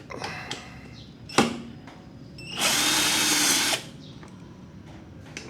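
A power drill backs out a screw from a Yamaha NMAX V3 motorcycle crash guard in one loud, roughly one-second burst, preceded by a sharp knock and quiet handling noises.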